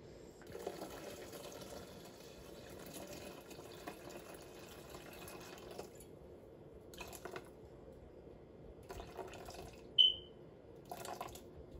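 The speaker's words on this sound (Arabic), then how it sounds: "دابا غادي نزيد 500 غرام اخرى ديال الماء" Water poured into a Thermomix M6 kitchen machine, about 500 grams: a soft, steady trickling stream for several seconds, then a few short splashing bursts and a brief high click, all fairly quiet.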